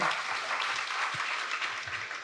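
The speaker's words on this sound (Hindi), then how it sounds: "तो एक बार जोरदार तालियां डॉक्टर मानसी जी के लिए।" Audience applause for Doctor Mansi at a blood donation and hemoglobin awareness session, a steady, dense clatter of clapping that holds evenly throughout at moderate volume.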